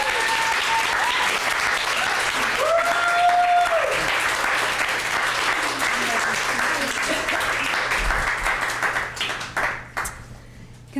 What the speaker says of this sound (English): So round of applause, please, for Ms.